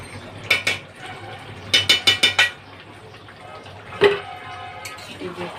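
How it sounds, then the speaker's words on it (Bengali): A spoon clinks and scrapes against a pot while ghee is stirred into a jackfruit chicken curry, in short clusters of bright metallic taps with a louder single knock near the end, close and moderately loud. "ঘিটা দিয়ে একটু নেড়ে দিলাম।"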